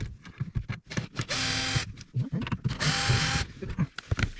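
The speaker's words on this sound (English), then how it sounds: "we have those two screws that we're gonna remove" An electric screwdriver fitted with a Torx T25 bit removes screws during a Bluetooth install in a Porsche 997, giving two sustained whirring bursts between clicks and handling noise up close.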